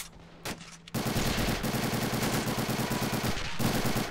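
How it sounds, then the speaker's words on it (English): Sustained automatic gunfire from a Browning Automatic Rifle in a World War II Marine combat video game, loud and continuous rapid bursts with a brief pause near the start and a short break toward the end. "BARs being spun."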